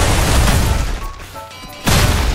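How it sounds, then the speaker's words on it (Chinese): A long-range cannon blast fired in a Minecraft Jujutsu Kaisen mod battle: a loud booming burst at the start, a dip with faint tonal game effects, then a second heavy crash near the end. "远程大炮攻击"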